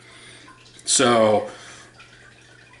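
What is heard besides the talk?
warm water poured into a glass casserole dish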